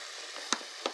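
A beef and artichoke stew simmers in a pot with a steady low hiss. Two brief, sharper pops or clinks stand out, and no one speaks.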